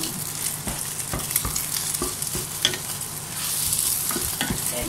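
Eggs fry as an omelette in a pot with mushrooms for a mushroom soup, a steady sizzle broken by repeated knocks and scrapes of a utensil stirring and mashing the egg, close and without voices.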